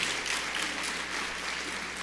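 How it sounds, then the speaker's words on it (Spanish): A small audience claps together in steady, dense applause that sounds faint and distant and continues evenly for a couple of seconds. "un par de adoloridas son las que empezaron a aplaudir"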